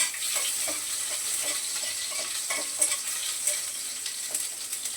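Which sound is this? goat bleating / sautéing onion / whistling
sautéing onion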